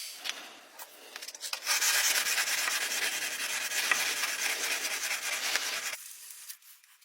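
A balisong knife part is sanded by hand with a steady, continuous rubbing hiss for several seconds, close and moderately loud, then stopping abruptly.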